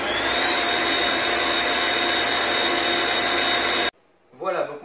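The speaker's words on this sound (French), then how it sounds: "Donc j'ai mis mon sucre avec mes œufs et je vais les battre pour qu'ils blanchissent." Electric hand mixer beating eggs and sugar together for a pound cake batter, a loud steady whir lasting nearly four seconds, then cutting off abruptly as a voice begins speaking.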